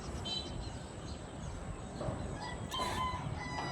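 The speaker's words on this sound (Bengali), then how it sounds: "মুরগি ডাকতেছে।" Chickens cluck and a rooster crows at a distance, heard from a rooftop, with faint rustling and steady background noise throughout.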